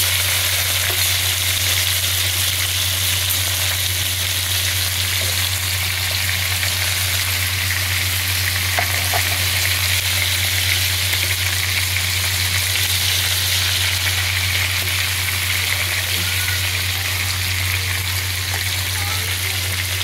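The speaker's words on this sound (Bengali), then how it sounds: "দেখতে পাচ্ছেন এগুলো ভাজছি" Marinated prawns fry in hot oil in a pan, giving a steady, close, even sizzle that runs throughout over a low electrical hum.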